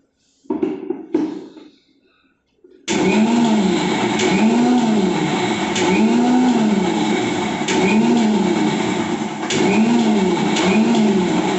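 After a few brief clatters and a short pause, a kitchen mixer grinder starts up, grinding coconut with turmeric powder, cumin, a few garlic cloves and green chilli. It gives a loud, close, steady whirring roar with a rhythmic pulsing wobble and no voices.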